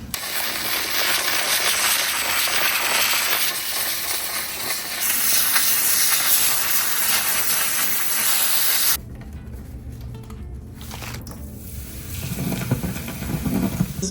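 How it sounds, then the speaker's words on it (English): A steam cleaner hisses loudly and continuously as it steams brushes and a rack clean, then cuts off abruptly, leaving quieter clattering and handling noises. "So I'm gonna steam all this clean."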